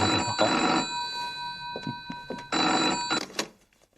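A telephone rings in two clear bursts of bright, warbling bell tone separated by a short pause, with faint room clatter between the rings.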